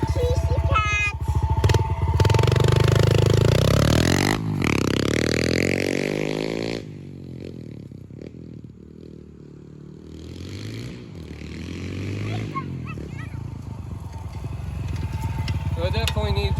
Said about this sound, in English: give it some revs, ride it a little bit